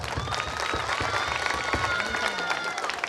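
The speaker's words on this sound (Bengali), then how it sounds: "আমি তাদের পক্ষ থেকে আপনাদের কাছে একটি বিশাল করতালি প্রত্যাশা করি" A village stage audience at an Eid cultural program claps in a dense, steady wash of applause lasting a few seconds, with faint crowd murmur mixed in.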